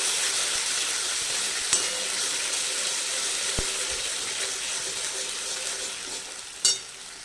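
Red sauce for suji pasta sautéing in a pan, an even close sizzle and hiss that runs throughout, with a few light clicks and one sharper clink of a utensil near the end.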